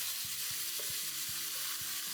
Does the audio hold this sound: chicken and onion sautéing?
yes